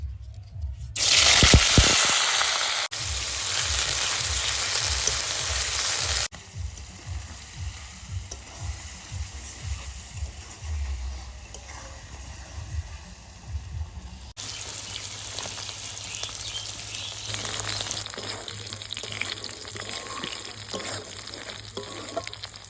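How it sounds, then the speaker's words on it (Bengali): Paneer pieces fry in hot mustard oil, sizzling loudly and steadily with bursts of crackle and scraping stirring or turning, alone without speech. "তেল গরম হয়ে গেছে এখন পনিরগুলো দিয়ে দেবো"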